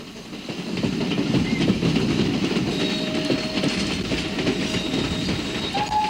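A London, Tilbury and Southend Railway steam tank engine rumbles steadily along the rails, a continuous loud mechanical roar with faint rhythmic clatter.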